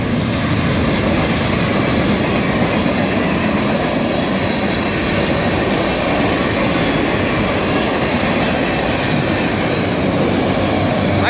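An FEC freight train pulled by a single locomotive rolls past close by, a loud, steady, unbroken rumble of wheels and cars throughout.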